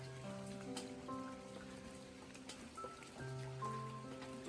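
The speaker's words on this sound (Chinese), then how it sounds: "然后今天下雨，我们也照样是在接水。" Rain falls steadily in the courtyard of an old mountain house while water is being collected, a faint even patter with scattered drips and some tonal hum underneath.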